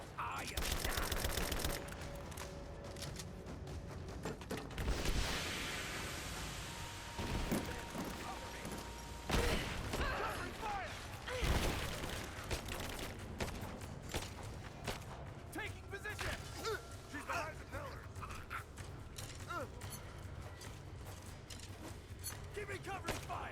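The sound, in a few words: gunfire during a firefight in the video game Rise of the Tomb Raider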